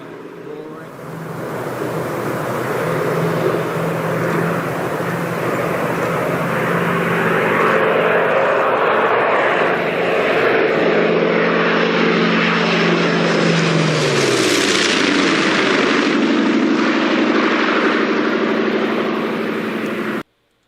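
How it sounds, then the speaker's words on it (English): The big radial engines of an A-26 aircraft roar loudly and steadily, a deep throbbing drone that swells and shifts pitch as the plane passes close. "Hopefully y'all can hear it with those big radial engines roaring."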